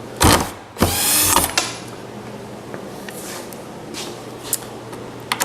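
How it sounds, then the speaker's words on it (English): A power screwdriver backs the last screw out of a handmade oak TV stand in two short whirring bursts, followed by faint clinks and taps as the screw comes free. "Take this last screw out"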